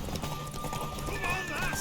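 Horse hooves pound rhythmically during a race in The Witcher 3, a steady galloping clip-clop with a neigh, heard under character voices.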